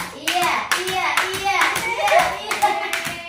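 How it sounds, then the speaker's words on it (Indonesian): Children clapping their hands in applause during a traditional-game activity, a dense run of claps with excited young voices and chatter mixed in throughout. "Tepuk tangan buat Alfa"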